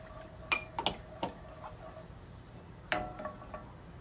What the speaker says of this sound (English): So just keep mixing until you get all that Dijon.